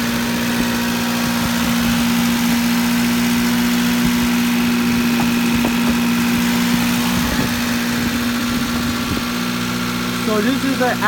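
A 1994 Acura Integra with a 1.8 liter engine idles steadily at close range, a constant low hum with slight vibration, and a person speaks over it.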